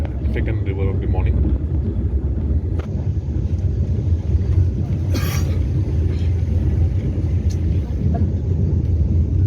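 A Vande Bharat Express train cruising at speed gives a steady low rumble and rolling hum heard from inside, with a brief hiss partway through and people talking over it.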